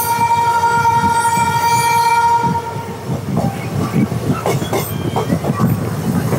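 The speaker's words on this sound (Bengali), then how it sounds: "ট্রেন এতটাই স্পিডে যাচ্ছে যে বাইরে হাতটা বার করতে পারছি না।" Sealdah-Rampurhat Maa Tara Express racing at speed between Bandel and Bardhaman, with a sustained loud horn blast at first and then a heavy rushing rumble of wheels and rapid clatter nearby.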